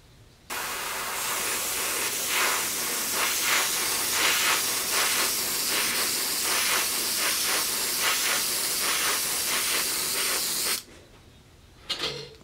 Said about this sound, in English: then we're gonna spray with that white